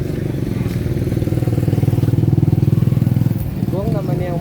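Motorcycle engine running close by, a loud rough rhythmic putter that pulses steadily and briefly swells, with voices partly audible over it.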